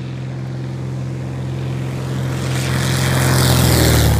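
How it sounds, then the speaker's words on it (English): A propeller airplane's engine drones loudly and builds in pitch and intensity as it takes off from a grass airstrip, growing nearer and stronger toward the end. "plane's probably gonna take off like really quickly."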